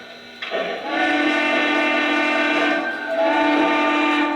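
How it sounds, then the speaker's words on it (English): A Lionel model train whistle, triggered by a CAB3 remote, sounds with a steady, multi-tone chord that starts abruptly and holds loud, with a brief dip in the middle before continuing. "So let me blow the whistle."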